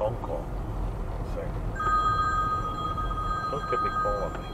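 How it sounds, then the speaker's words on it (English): Telephone ringing while driving, a steady electronic ring tone starting partway through and continuing over a constant road rumble. "Oh, we got a phone call."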